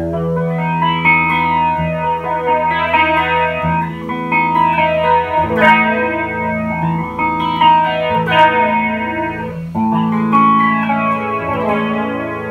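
Electric guitar through a Boss flanger pedal, with a sweeping, swirling modulation effect, chords ringing out steadily and loudly with a whooshing, jet-like comb sweep throughout.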